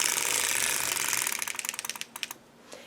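A circular sock machine being hand-cranked, giving a dense whirring clatter that breaks into a run of distinct rhythmic ratcheting clicks slowing toward the end, close and alone with no talk.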